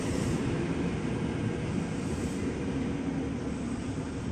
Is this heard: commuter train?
yes